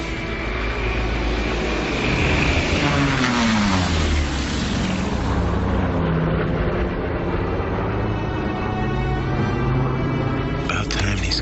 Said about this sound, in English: You hear that? Yeah, I think that's our plane.